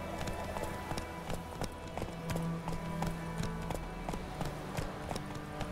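Steady hoofbeats of a horse galloping in The Witcher 3, a rapid, even clip-clop rhythm running throughout, with faint game ambience behind it.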